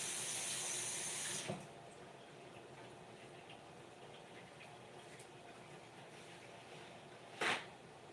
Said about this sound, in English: I already washed them, but I want to wash them again